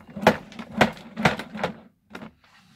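A DeWalt TSTAK tool storage drawer is pushed closed: four clattering thumps in quick succession, then a shorter knock and a faint trailing rattle, with no talk.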